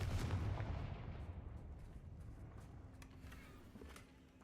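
A Confringo fire spell blast in Hogwarts Legacy bursts loud at the start, then its deep rumble fades into a long, decaying tail.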